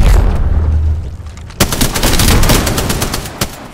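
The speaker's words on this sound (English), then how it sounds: "Opening fire." Gunfire in Apex Legends: a loud rumbling burst opens, then rapid automatic fire rattles close and steady with a few sharper cracks.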